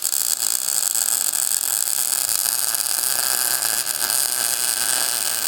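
Small welder joining metal on a custom steering box fabrication for a 1941 Mercury, giving a steady, continuous crackling hiss with a constant hum underneath, close and unbroken, with no talking.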